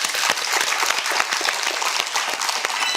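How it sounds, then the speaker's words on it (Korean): A dense burst of applause from a quiz show studio audience, steady and loud throughout, with many hands clapping at once and no talking. "박수로 청해보겠습니다"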